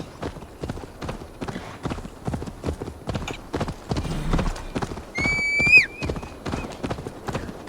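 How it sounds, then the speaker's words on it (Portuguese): Horse hooves gallop in a steady, rapid clip-clop through Assassin's Creed Valhalla, loud and close, with a brief whinny near the end. "Deixar o cavalo indo."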